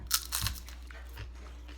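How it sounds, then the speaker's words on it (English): A couple of close, dry crunches from biting into a microwaved sweet potato chip, followed by fainter chewing over a low steady hum. "I was going to take a bite of one so you could see how crunchy they are."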